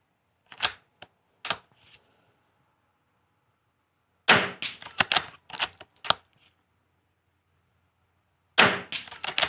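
.22 rifle shots ring out at an NRL22 match: sharp, close cracks in scattered groups, a few early, a quick cluster in the middle and more at the end, with near silence between.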